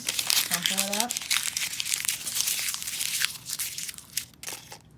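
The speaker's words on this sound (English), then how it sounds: "We're going to take one of our other reds, crumple it up," Paper slip from a probability lab crumpled up by hand, a dense crinkling crunch running for several seconds, close and fairly loud, with a brief voice sound near the start.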